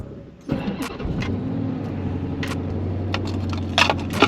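A worn, high-mileage Dodge R/T with about 250,000 miles starts and settles into a steady, close idle with a low hum, plus a few small clicks and knocks over the running engine.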